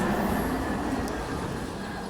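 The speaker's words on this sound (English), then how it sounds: "I'll stall momentarily to let it pass, because I know this tram is loud" A loud tram rolls past on an Istanbul street with a steady, heavy rumble of wheels on rails and a faint high squeal. It is close and continuous, and no one speaks.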